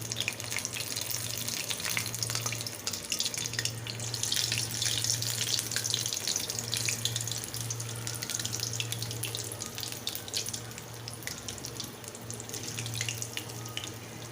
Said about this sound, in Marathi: जास्त हाय वर तळायचे नाहीत मध्यम आचेवर तळून घ्यायचे